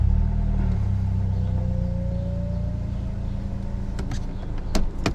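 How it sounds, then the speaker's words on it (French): A Mazda 3 MPS with a 2.3-litre, 260 hp engine starts and settles into a steady, close, low idle rumble, with a few faint clicks near the end. "on démarre la machine."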